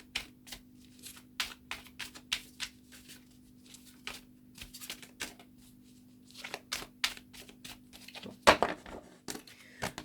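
Tarot cards are shuffled by hand, giving a quiet series of crisp riffling and flicking bursts at an irregular rhythm over a low steady hum, with one louder shuffle near the end.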